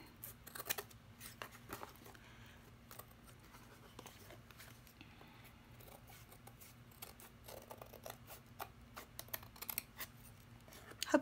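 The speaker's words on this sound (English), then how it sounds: "I'm just going to trim up all the ragged edges" Scissors snip repeatedly along ragged paper edges for a fall junk journal, a steady run of small close cuts and rustles over faint background hum, no talking.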